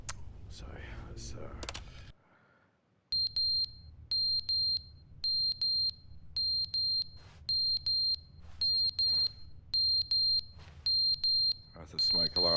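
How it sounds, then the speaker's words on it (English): A smoke alarm with a failing battery sounds a loud, shrill electronic alarm in pulsing bursts, about a dozen evenly spaced beeps in a row, after a stretch of indoor noise and a short pause. "that's a smoke alarm running out of power."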